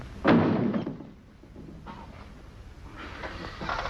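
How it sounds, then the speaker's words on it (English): A door is shut hard, a single close, heavy thud, followed by quieter rustling and faint background noise. "don't slam the door as you go out"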